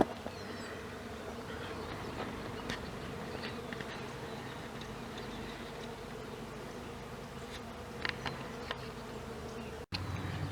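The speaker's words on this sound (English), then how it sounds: "Maybe you can hear the bees on it" Steady, soft buzzing of many bees on a flowering California native plant fills the air continuously, a faint insect drone with no voices, occasional louder passes nearby.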